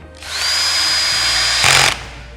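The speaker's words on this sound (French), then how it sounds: "Je n'ai plus qu'à visser. Une vis par petit triangle." Power screwdriver driving a screw into wooden modules: a loud, steady motor whine for about a second and a half, rising briefly as the screw seats, then stopping.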